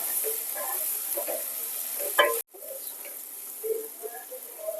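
Onion and tomato fry in a pan, a steady close sizzle with light stirring scrapes that breaks off for a moment and then carries on.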